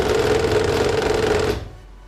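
A Fanatec CSL Elite steering wheel runs force feedback at its default setting, producing a steady mechanical whirring buzz up close for about a second and a half before cutting off abruptly. Nobody talks.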